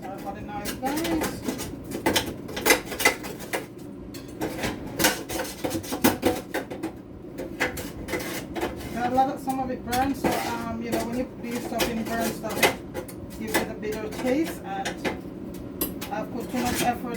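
Scraping air fried barbecue chicken and coconut rice out of a pot, a series of irregular metallic scrapes and clinks of a utensil on the pot, close and repeated over the whole stretch with faint background talk.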